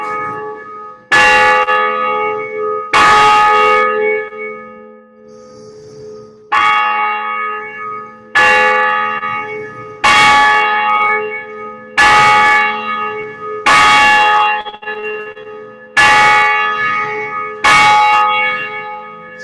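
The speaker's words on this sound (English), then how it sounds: "Promise you there's a bell back there." Church bell rung in a bell tower during an outdoor Blessing of the Animals service, about ten loud, evenly spaced strikes with long ringing decay between them, clear and alone.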